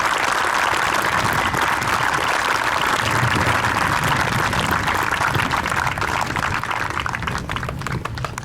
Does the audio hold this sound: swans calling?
no